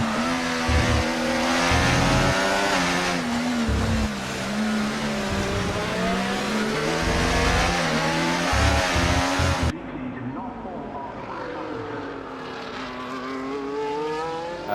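Formula 1 cars racing at the Mexico round of an F1 video game league, several high-pitched engines screaming together as they rise and fall through gears, loud and close before dropping to a more distant single engine whine near the end.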